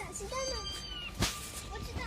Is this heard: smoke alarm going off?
no